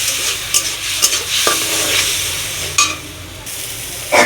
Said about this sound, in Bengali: এই মশলাটাকে ভালো করে কষাবো।